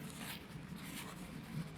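Dry paper is rubbed across the front glass element of a Tokina AT-X Pro 28-70mm f2.8 lens, a close, soft, continuous scraping and wiping.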